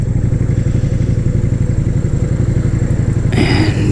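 Motorcycle riding on new tyres on a 75 km ride home, a loud, steady engine drone with road and wind noise at close range and no talk.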